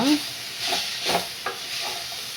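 Fried bitter gourd being stirred in a hot pan, giving a steady sizzle with a few soft scraping strokes close by, with no talking.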